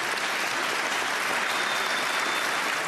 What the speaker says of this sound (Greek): Με ένα παρατεταμένο χειροκρότημα.